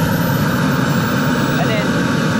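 A Dragon turbine engine on a taxi test runs with a loud, steady roar and a high whine above it, holding at a constant level close to the microphone as the throttle is clicked up.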